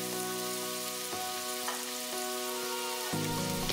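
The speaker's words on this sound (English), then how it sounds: "cooking those sausage patties on each side until they're fully cooked through" Beef sausage patties fry in avocado oil in a pan, a steady crackling sizzle with a constant hiss, a few soft clicks and faint low tones running beneath.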